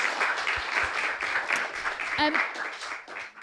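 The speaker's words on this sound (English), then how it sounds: "Can we give a round of applause?" An audience claps steadily through the whole stretch, a dense sustained round of applause with a few louder individual claps near the front.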